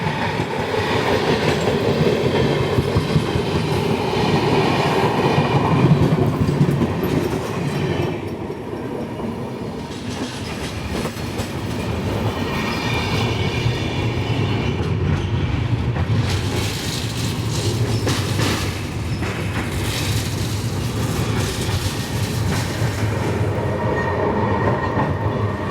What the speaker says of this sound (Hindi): ये है हावड़ा पुरी शताब्दी एक्सप्रेस।